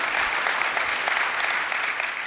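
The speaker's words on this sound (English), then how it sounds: "Somebody's clapping, they sell on Amazon, they know" Clapping from the audience at a summit keynote, a dense, steady patter of applause that runs loud and close the whole time without pause.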